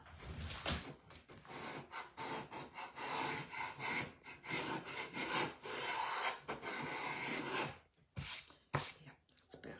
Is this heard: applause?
no